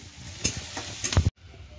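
Short crackling bursts of spices tempering in hot oil pop a few times in quick succession, close by, before cutting off abruptly.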